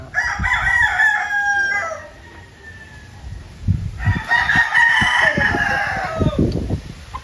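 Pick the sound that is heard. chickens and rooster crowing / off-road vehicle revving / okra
chickens and rooster crowing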